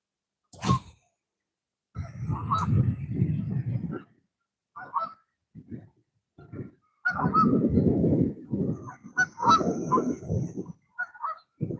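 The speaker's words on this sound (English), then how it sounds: "That's a bird up there. Sounds like a cat, though." A bird calls from up high on a sunny day by the water while fishing, giving repeated harsh, nasal, cat-like honks in irregular bursts, loud and clear with quiet gaps between.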